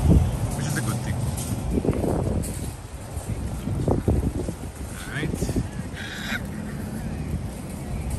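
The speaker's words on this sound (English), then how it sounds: "But it's still kind of windy, but not so windy as it was when we came in." Gusty wind on a stormy day in Florida roars and buffets the microphone with steady low rumble throughout, with a few brief honking bird calls breaking through near the end.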